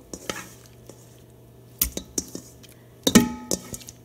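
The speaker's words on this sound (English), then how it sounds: "So I'm just mixing it." A spoon stirs shrimp batter in a bowl in short scraping, clacking bursts separated by quiet pauses, close and clear with no one speaking.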